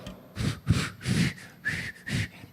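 A failed attempt at whistling through the lips, heard as about six short breathy bursts of airy hiss with only brief faint tonal flickers, close and fairly loud with gaps between tries.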